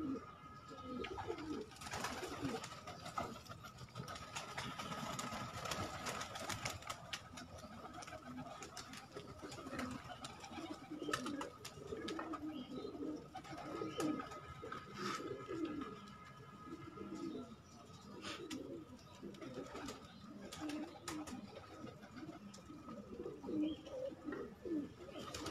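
Baby pigeons at a home pigeon loft coo softly and continuously through the whole stretch, a low murmuring chorus with occasional faint chirps and background noise.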